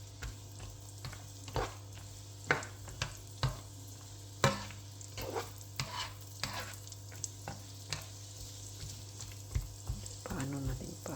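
Eggplant fries in a pan with a steady low sizzle, broken by a string of sharp spatula scrapes and knocks against the pan, some close and loud, spaced irregularly across the stretch.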